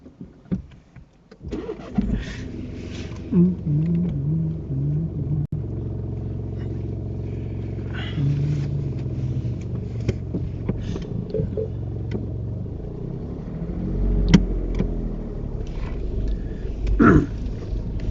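A learner's car on a UK mock driving test starts up, then its engine hums and rises and falls in pitch as it pulls away and drives, close and continuous, with no talk.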